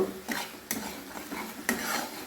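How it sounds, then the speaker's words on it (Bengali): A spoon stirs ground spice paste in a pan for a vegetarian mung dal curry, giving several scraping, clinking strokes against the metal with a faint sizzle underneath. "মশলাটা আমি কষিয়ে নেব"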